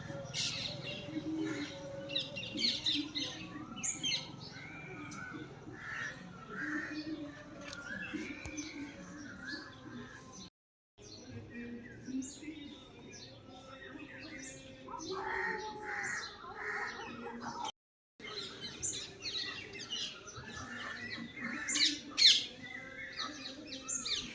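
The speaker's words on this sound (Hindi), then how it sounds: "ये तोता कितने सुंदर है।" A parrot calls repeatedly in a rural village setting in Tharuland, Uttarakhand, giving bright chirps and squawks over a steady outdoor background. Other birds and faint voices mix in, and the sound drops out in two short gaps.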